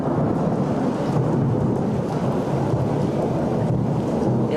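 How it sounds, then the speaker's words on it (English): Steady rain with rumbling thunder during an afternoon storm in Israel, a dense, even wash of noise holding at a constant loud level throughout, with no voices. "Rain, delicious wet rain."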